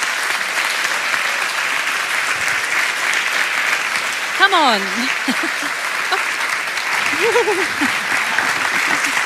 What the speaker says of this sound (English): Give them all a big, hearty round of applause.